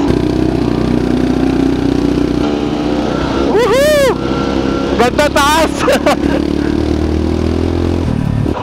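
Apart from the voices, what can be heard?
motorcycle engine straining while climbing a steep road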